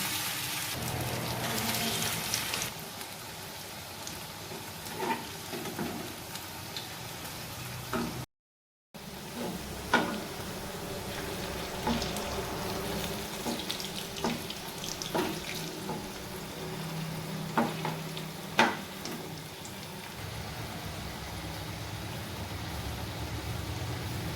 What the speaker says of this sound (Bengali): পকোড়াগুলিকে আমি লাল লাল করে ভেজে নিয়েছি